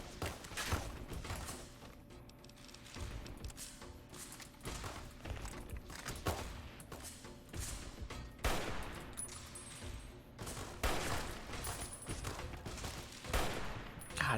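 Repeated gunfire fills a Fallout: New Vegas firefight, with dense, irregular bursts of loud shots and thuds that go on throughout, some clustered in rapid volleys. No one speaks.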